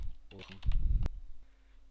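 Someone types briefly on a computer keyboard while installing Minecraft mods. Quick close keystrokes cluster into a short burst, ending with a sharp click.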